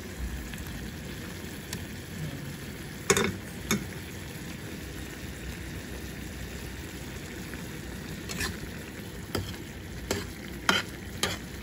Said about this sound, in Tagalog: Pwede na po natin ihulog ang patatas.